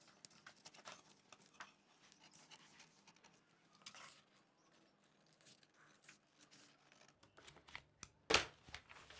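Scissors snip through tulle fabric for a child's ball gown in a series of quiet, close, irregular cuts, with a louder snip near the end.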